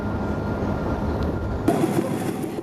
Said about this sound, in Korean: 그때 갑자기 달려오는 기차 한 대.